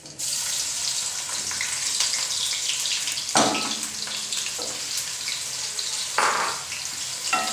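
Onion drops into hot oil with whole cumin seeds for a restaurant-style mixed vegetable dish, producing a loud, steady close sizzle with a sudden burst of crackle as it goes in and stirring scrapes later, no talk.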